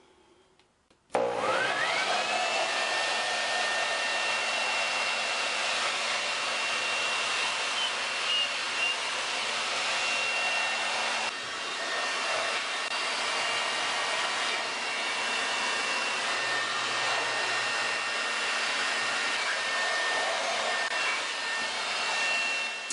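A hair dryer blows steadily on a Singer Model 237 sewing machine, its loud whirring airflow switching on sharply and holding continuously close by without talk, with slight shifts in tone as it moves along the machine.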